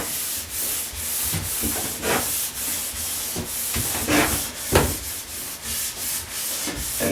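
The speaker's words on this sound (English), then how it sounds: "I push that out onto the ski and I lightly cork it in." Wax being rubbed into the base of a still-warm ski with a cork, producing a steady close, hissing friction sound in repeated back-and-forth strokes.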